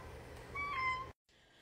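A cat meows in short tonal calls at a slightly distant spot, set against a steady room hum during a morning of packing orders, and the sound cuts to near silence toward the end.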